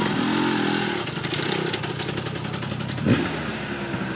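A motorcycle engine starts up and revs at an outdoor fun event, running loud and steady at mid pitch with a brief rise in revs near the end.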